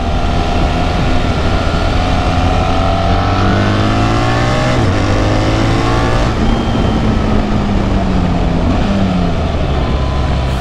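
A BMW R1300 GS motorcycle engine revs hard and climbs through gears on the Interlagos track, loud and close, with steady wind roar throughout.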